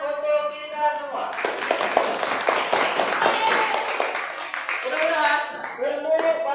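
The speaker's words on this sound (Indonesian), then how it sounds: "tepuk tangan untuk kita semua" A classroom group in a primary school claps hands together in a burst of applause lasting several seconds, loud and close. Voices speak just before and after the clapping.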